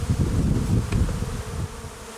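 Honeybees buzz densely around an open Ukrainian-Alpine hive during a queen replacement, a close, continuous low hum that fades slightly toward the end.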